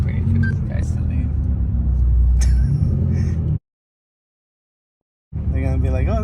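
A tuned BMW M6 with a louder exhaust rumbles deep and steady from inside the car, cutting out to silence for a couple of seconds before the drone returns, with a voice heard over it.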